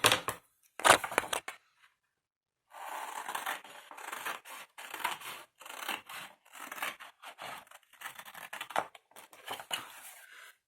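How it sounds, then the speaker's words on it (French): Scissors cutting during a scrapbooking project building a large ribbon box, soft repeated snips and rustling scrapes in irregular bursts after a few sharper strokes, close and fairly quiet. "Les ciseaux."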